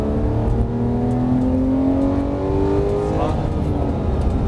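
Porsche 911 GT3 accelerating hard around the Dreux race circuit, its engine note climbing steadily in pitch under steady loud wind and cabin rumble, with a short shift near the end before it pulls again.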